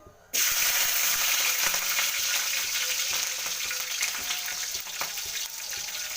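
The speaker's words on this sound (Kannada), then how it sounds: "ಎಣ್ಣೆ ಕಾದಿದೆ ಇವಾಗ ಕಾಯಿ ಮೆಣಸು ಹಾಕೋತೀನಿ" Green chilies dropped into hot oil in a pan set up a sudden loud, steady sizzle that starts after a brief quiet moment and keeps frying evenly, with occasional crackles.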